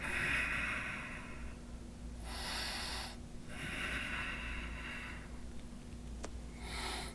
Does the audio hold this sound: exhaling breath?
yes